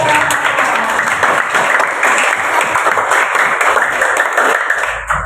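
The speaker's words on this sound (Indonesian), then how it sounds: "kasih aplaus lagi buat" Steady, loud applause from a class of students fills the room without pause, a dense crowd of hands clapping together for several seconds before tapering slightly at the end.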